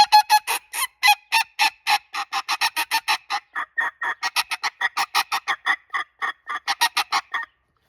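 A hand-blown bird call with a honking, goose-like tone, played in rapid close bursts of short raspy notes, some runs quick and clustered, others spaced, with brief pauses between phrases.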